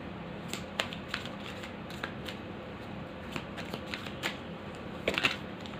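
Tarot cards being shuffled and drawn, a run of soft close flutters and papery snaps at irregular intervals, ending in a quicker cluster of riffles.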